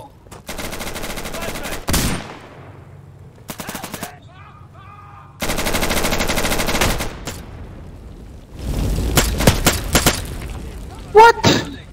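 Loud bursts of machine gun fire in a video game, several long sustained volleys broken by short gaps, with other game sounds between them.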